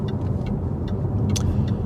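Jaguar XK X150 with the 4.2 engine pottering along slowly, a close, steady low engine rumble with light ticks and road noise over a brief stretch.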